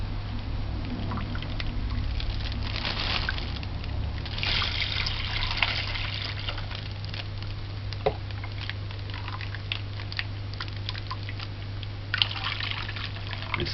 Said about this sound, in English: pour it in a bag.